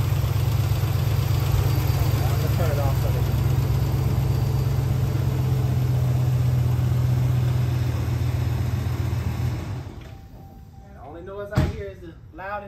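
A Ram 1500 with the 5.7 Hemi V8, repaired after lifter and camshaft damage, idles steadily and fairly loud for about ten seconds before shutting off, followed by a door slam and brief talking.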